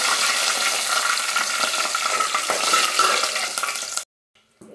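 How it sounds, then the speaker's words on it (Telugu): Curry leaves and green chillies fry in about five spoons of hot oil for a tangy taro root curry, giving a loud close crackling sizzle with stirring that runs steadily for four seconds, then cuts to silence. "తర్వాత కరివేపాకు వేయాలి తర్వాత పచ్చిమిర్చి వేయాలి"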